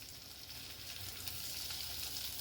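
Seasoned shrimp with salt, pepper and oregano sear in a very hot pan of olive oil, giving a steady, even, close-up sizzle that hisses continuously without pause.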